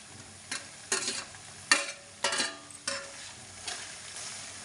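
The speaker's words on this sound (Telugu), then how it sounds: "ఇదిగండి చికెన్ ఫ్రై అయిందండి" Boiled chicken pieces frying in oil with masala, heard as a steady sizzle broken by several sharp bursts of stirring and scraping in the pan, close and moderately loud, with no voices.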